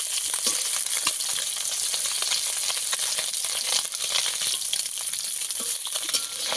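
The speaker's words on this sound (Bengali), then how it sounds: "আবারও এক পিঠ মাছগুলোকে উল্টে দেবো, একটু মজমচে করে এই মাছগুলোকে ভেজে নিতে হবে।" Small pond fish, moh and chuno, sizzle and crackle steadily as they fry in a pan, with occasional stirring or flipping, close and loud with no talk.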